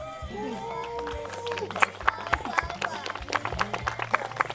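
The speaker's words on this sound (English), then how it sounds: "And the crowd went wild" Wedding guests at a pajama-themed ceremony break into cheering and scattered clapping, a lively crowd din with sharp claps growing denser toward the end, mixed with voices.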